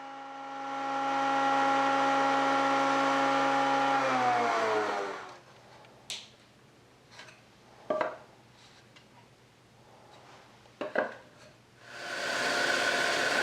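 Bandsaw resawing wooden boards: a loud harmonic motor whine spins down and stops, followed by quiet clicks and handling knocks, then the saw starts up again near the end.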